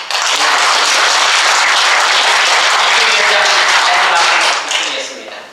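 A seminar audience in Korea gives sustained, loud applause to a lecturer, a dense even wash of clapping that holds steady for about five seconds before trailing off at the end.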